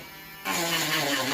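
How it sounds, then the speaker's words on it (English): A Dremel rotary tool whirs into a steady high buzz as it starts smoothing a 3D-printed rod holder, close and continuous after a short quiet lead-in. "I'll get my Dremel."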